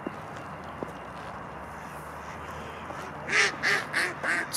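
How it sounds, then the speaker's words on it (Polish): Several ducks quack in a quick burst of four or five calls near the end, after a stretch of steady outdoor ambient noise. "No to Goruś ogląda kaczuszki."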